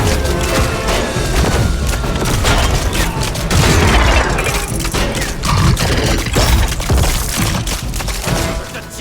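Lego Marvel Super Heroes 2 combat: loud continuous barrage of blasts, booms and crackling debris with rapid shooting, close and dense throughout.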